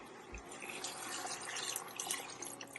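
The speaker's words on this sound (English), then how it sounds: "So we'll be adding water now at this time." Water is poured into a cooking pot of Afang soup in a home kitchen, a steady splashing trickle that runs for a few seconds with no talking.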